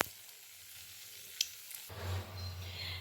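Crushed whole garam masala hits hot oil for a tempering, bursting into a sudden bright sizzle after a quiet stretch, then crackling steadily up close.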